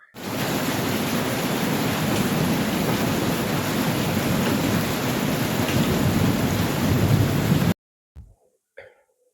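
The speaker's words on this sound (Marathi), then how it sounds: "मस्त असं पाऊस पडत होता" Heavy rain pouring steadily with deep thunder rumbling underneath, a dense even roar that cuts off abruptly near the end, followed by a couple of faint knocks in near silence.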